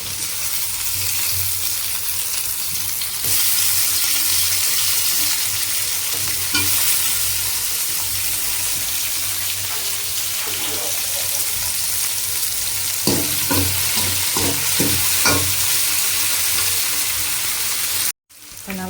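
Tomatoes fry and sizzle in a pan with ginger-garlic paste for a chicken kuzhambu, a steady sizzle broken by a run of spoon scrapes and stirs near the end, no talking.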